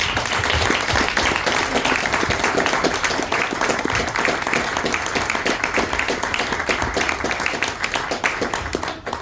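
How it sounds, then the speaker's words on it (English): An audience at a public panel discussion applauds, sustained dense clapping that fills the room at steady loudness for several seconds, with no speech over it. "So can we please give them a round of applause?"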